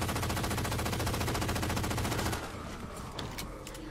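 Rapid automatic gunfire in the Halo 4 video game fires in a loud, even stream for over two seconds, then gives way to scattered quieter shots and impacts.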